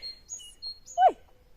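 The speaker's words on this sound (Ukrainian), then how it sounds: "Ой, пташки співають, да?" A few short bird chirps and tweets, followed by one louder swooping call, in an otherwise quiet outdoor setting.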